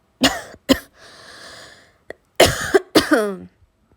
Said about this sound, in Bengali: কাশি হয়ে গেছে।